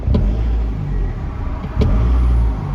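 An Isuzu D-Max pickup with a remapped ECU and revs that hang after the throttle is released produces a loud, close engine rumble that swells and eases, with a couple of sharp clicks.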